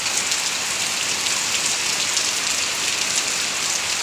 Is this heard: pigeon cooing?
no